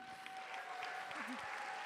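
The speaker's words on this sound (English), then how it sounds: "Big applause for the Zero Project team" Audience applause at the Zero Project Conference 2026 award ceremony, a soft, steady patter of clapping heard from a distance with a faint tone running under it.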